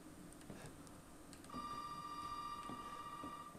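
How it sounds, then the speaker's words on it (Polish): A telephone in the game Resident Evil 7 starts ringing with a steady electronic tone about halfway through, a sustained ring that carries on under faint game ambience. "Telefon dzwoni."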